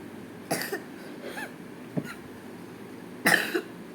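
A five-year-old child coughs in a few short, separate bursts, close by, with quiet gaps between them and the last cough the loudest.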